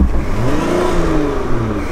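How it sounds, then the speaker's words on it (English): A car accelerating as the driver steps on the gas, a loud, close engine note rising steadily in pitch over two seconds with wind-like noise and no talk. "I stepped on the gas."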